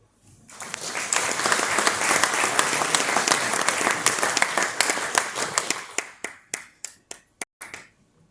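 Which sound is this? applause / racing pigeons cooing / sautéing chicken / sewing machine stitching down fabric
applause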